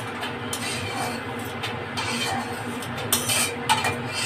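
Fried lentil dumplings (bori) lifted from a frying pan with a utensil, light scraping and metallic clinks over a steady background sizzle, a few sharper taps near the end.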